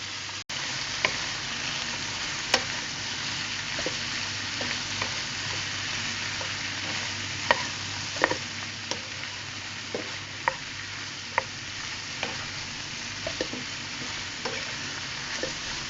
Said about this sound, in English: I put my broccoli in next.